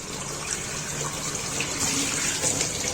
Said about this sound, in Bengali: এখানে আমি আমগুলো খুব পরিষ্কার করে ভালোভাবে ধুয়ে নিচ্ছি।